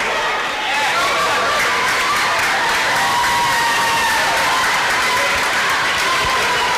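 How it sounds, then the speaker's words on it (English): A light crowd fills a college basketball gymnasium with a steady wash of murmuring chatter and scattered shouts, constant throughout and slightly distant. "Kind of a light crowd."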